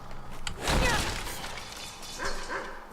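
A dog in the video game Skyrim barks and yips amid a dense, noisy game soundscape, with a loud burst early on and softer whimpering yelps near the end.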